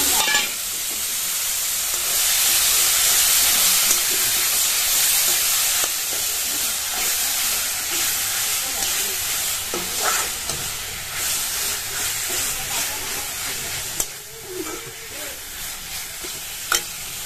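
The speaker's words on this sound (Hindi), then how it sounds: "तेल जो है छोड़ चुके मसाला है। तो अब डाल देते हैं इसमें मटर," Peas drop into masala frying in hot oil, setting off a loud, close, continuous sizzle with hissing steam and occasional stirring scrapes throughout.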